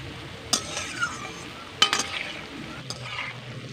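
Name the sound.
gram flour boondi frying in oil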